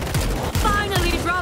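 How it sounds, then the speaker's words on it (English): Rapid machine gun bursts in the zombie shooter World War Z, several loud crackling volleys close together, mixed with game voices talking over the gunfire. "Machine guns locked in!"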